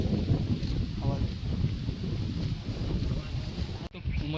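Wind blowing across the top of Datar mountain near Girnar in Junagadh, a continuous low rumbling gust buffeting the microphone, loud and close, ending in an abrupt cut.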